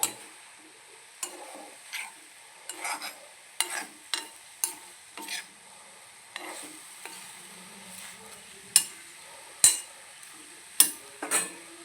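Bean and plantain thoran being stirred in a pan during tempering, a series of sharp, close scrapes and clinks at irregular intervals over a faint background sizzle.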